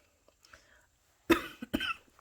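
Two sharp, close coughs in quick succession from a person who had been talking quietly, with faint movement noise before them in an otherwise quiet indoor room.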